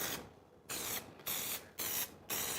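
A spray can hisses in four short, evenly spaced bursts, each a loud, close, broadband spray separated by brief quiet gaps, during work wrapping car window pillars with fabric.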